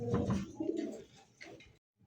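Soft, throaty coos from a pair of Bagha pigeons roll out close by in a few low bursts, then trail off into silence.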